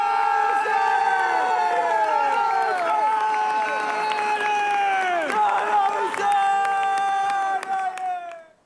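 Crowd at the Santa Lucia procession as the saint's statue returns to the cathedral, applause and cheering under loud, sustained ringing tones, steady throughout and then cutting off sharply at the end.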